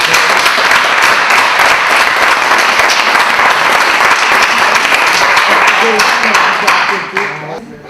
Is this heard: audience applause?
yes